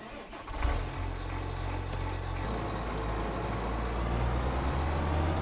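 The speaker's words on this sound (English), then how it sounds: "Let's get into the tractor" The engine of a New Holland T8020 tractor in Farming Simulator 25 starts with a brief clatter, then settles into a steady, deep diesel drone. It holds at an even level close by.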